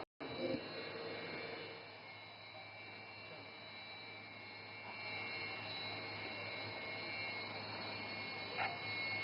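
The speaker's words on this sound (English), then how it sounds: "And notice the aircraft is now opening full power." A fighter jet at an Indian Air Force airshow in Dibrugarh, Assam, roars steadily at full engine power, its sustained jet noise growing slightly louder toward the end.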